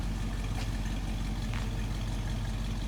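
Restored 1957 Chevrolet Bel Air convertible with a 283 four-barrel V8 idling, giving a steady, even low rumble that holds at constant loudness throughout, with no voices.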